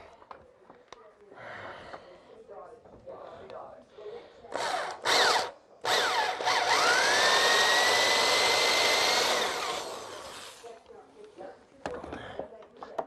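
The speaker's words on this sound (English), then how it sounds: "Get my electric drill out." An electric drill whirs in short bursts, then bores steadily into cedar wood with a loud grinding whine for several seconds; someone speaks quietly before and after.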